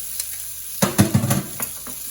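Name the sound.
sardines and garlic frying in a pan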